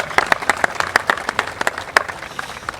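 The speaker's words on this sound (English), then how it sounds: "Let's give him a round of applause for joining us today" A graduation audience claps for a technical institute ceremony, a crisp burst of individual hand claps with distinct sharp strikes, fairly close and lively, under a faint murmur of voices.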